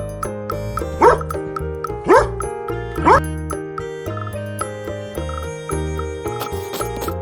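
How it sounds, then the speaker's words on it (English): Three short dog barks ring out about a second apart over cheerful background music. "D for dog."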